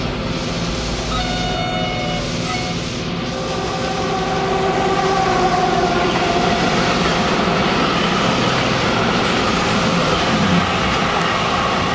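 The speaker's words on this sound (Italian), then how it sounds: "Fare attenzione sul secondo binario, treno in transito, allontanarsi dal secondo binario" A passing train sounds through a model railway layout's station: a steady rolling rumble with a horn-like tone near the start, continuous and moderately loud throughout.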